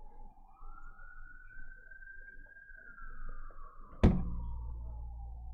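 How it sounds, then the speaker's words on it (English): A distant siren wails in one long rising and falling tone behind a low background rumble, and a sudden loud thump cuts in near the end. "You guys can hear the sirens in the background."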